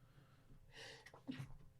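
A single quick sneeze, soft and close, preceded by a brief sharp intake of breath.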